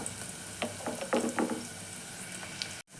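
Onions frying in a pan as powdered salt is stirred in, with a steady close sizzle and a few stirring scrapes, then a brief drop to silence near the end.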